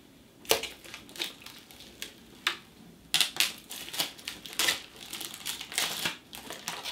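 Protective foil being peeled off a Lian Li TU150 mini-ITX PC case, heard as a series of close, sharp crinkling rips and crackles in uneven bursts.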